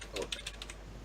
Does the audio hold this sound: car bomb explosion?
no